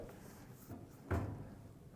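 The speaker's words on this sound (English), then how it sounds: "I'll have you close the drawer" A drawer shuts during a classroom teacher training drill, a soft slide followed by a single close, solid thump, quiet surroundings with no talk.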